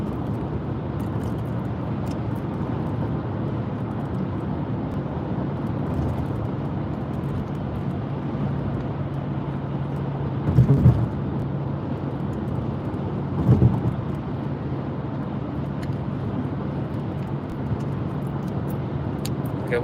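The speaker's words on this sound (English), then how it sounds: "Why is there traffic? I hate traffic." Road traffic rolls past as a steady, continuous low rumble of cars heard from inside a vehicle, with two brief louder swells where nearby vehicles pass.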